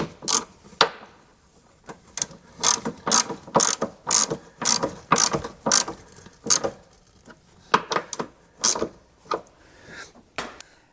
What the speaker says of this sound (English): Put our two bolts in. Can't forget to tighten them up.